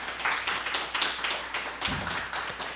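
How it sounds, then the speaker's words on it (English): Audience applause at an accelerator program's final presentations event, a steady wash of many hands clapping together for nearly three seconds, with a brief low thump near the end. "Big round of applause."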